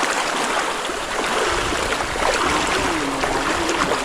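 Continuous rushing of the Giroba river flowing close by, steady and fairly loud throughout.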